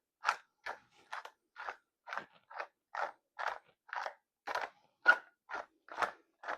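A pepper mill grinds pepper onto potato stacks, about fifteen evenly spaced, close, crisp crunching twists with silence between each.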